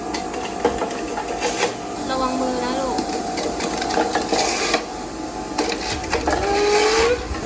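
An electric slow juicer that separates pulp whirs and grinds steadily close by, with a short spoken remark over the motor noise.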